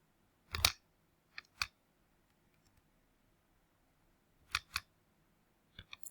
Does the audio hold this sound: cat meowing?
no